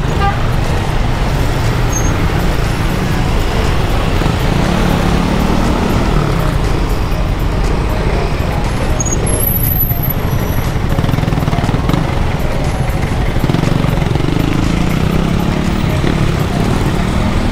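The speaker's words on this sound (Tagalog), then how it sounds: "ito traffic" Dense street traffic on a road in Caloocan fills the air with a continuous loud rumble of cars, buses and trucks, with occasional horn toots cutting through the steady roadway noise.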